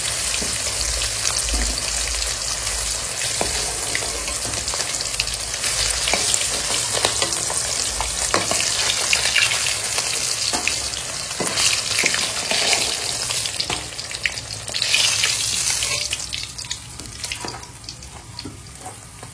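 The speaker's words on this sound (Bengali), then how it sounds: "মাছ ভাজাটা হয়ে গেছে, এবার তুলে দেবো।" Hilsa fish frying in hot oil gives a steady, loud sizzle with scattered sharp crackles and pops and a few stirring scrapes, continuous throughout with no voices.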